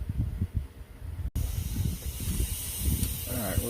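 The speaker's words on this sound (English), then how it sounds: "You can hear the hissing in the background. That is a vacuum chamber." A vacuum chamber hisses steadily while degassing plastic bait mold, a soft background hiss under clattering handling noises, with a brief dropout partway through.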